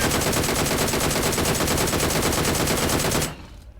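Rapid automatic gunfire in the PUBG Mobile video game, a loud, evenly spaced burst of shots lasting over three seconds before cutting off abruptly into quiet.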